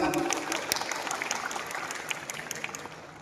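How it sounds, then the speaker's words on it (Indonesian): Audience applause at a university faculty anniversary ceremony, steady crowded clapping with sharp individual claps standing out, gradually thinning toward the end. "Tepuk tangan"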